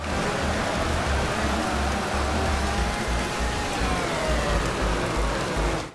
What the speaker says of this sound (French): Parce que là on est en pluie forte hein, et on voit très très bien.